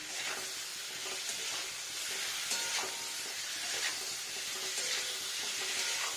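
Potatoes and paneer sautéing in a pan over a medium-high gas flame, giving a steady, close sizzle with soft stirring scrapes throughout and no voices.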